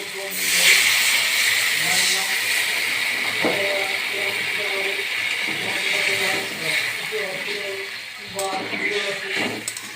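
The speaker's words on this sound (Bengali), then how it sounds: "এবার জল দিয়ে দিচ্ছি" Water poured into a pan of cooking small fish, radish and potato sets off a loud, continuous hiss and steam that fades slightly toward the end. Faint clinks and brief voices sit under it.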